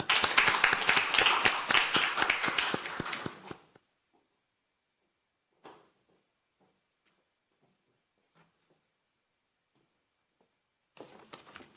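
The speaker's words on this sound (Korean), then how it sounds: "박수로 들어보겠습니다" Audience at a youth speech contest in the National Assembly hall claps to welcome a speaker: a dense, crisp burst of applause for under four seconds, then near silence broken by a few faint taps before a brief return of clapping.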